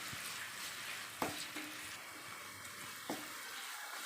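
Onions and curry leaves sauté in hot oil for a Tamil sundakkai gravy, a steady soft sizzle broken by a few sharp stirring scrapes and clicks of a utensil against the pan, close and fairly quiet with no talking.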